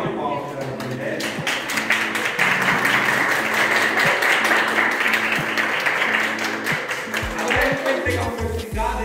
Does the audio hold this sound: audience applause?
yes